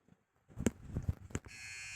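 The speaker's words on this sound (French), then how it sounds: "Et tu peux même activer l'alarme." An alarm switched on aboard a boat in the Roblox video game, a steady buzzing tone that starts after a few faint knocks and clicks and then holds, fairly quiet.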